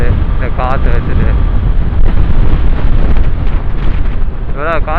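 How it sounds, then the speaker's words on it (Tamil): Strong wind roars into the microphone on a motorcycle ride along Trichy Road from Sulur to Ondiputhur, a loud, continuous, buffeting low rumble throughout, with brief bits of a person talking beneath it. "இவ்வளோ காற்று அடித்தா வெறுத்துரும் போலையே, அப்படி ஒரு காற்று அடிக்கிற காற்று."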